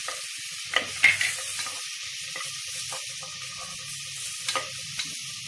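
Ingredients for beetroot pulao sauté quietly in a pan, a soft sizzle broken by a few scraping stirs and light clinks, with no one speaking.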